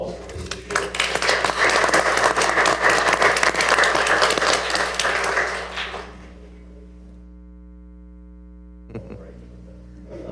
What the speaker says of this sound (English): please join me in a round of applause for Ms. Boucher